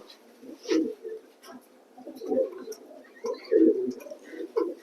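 Racing pigeons in a loft coo in soft, low, throaty bursts, several overlapping calls repeating every second or so, close and fairly quiet, with a few light rustles and no talking.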